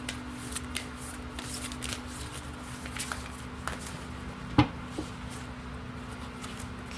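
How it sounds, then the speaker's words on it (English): Tarot cards being shuffled by hand, a steady soft riffling and sliding of the deck over several seconds, close and quiet, with a single sharper tap partway through. "let's pull one final card to close out your reading"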